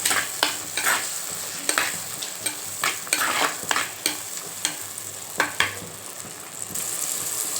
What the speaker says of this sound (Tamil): தக்காளியோட பச்சை வாசனை போகிற அளவுக்கு நல்லா வதக்குங்க.